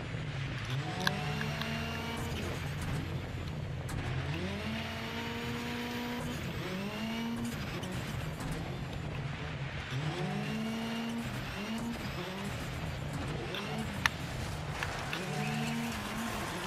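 Race car in the off-road racing video game DIRT 5, its engine revving up and down steadily through gear changes as tires skid and squeal, loud and continuous with no voices.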